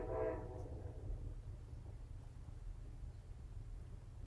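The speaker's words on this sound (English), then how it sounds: "Oh my gosh, the train." A train passes at a distance, a low steady rumble running throughout with a brief horn-like tone at the start, no talk over it.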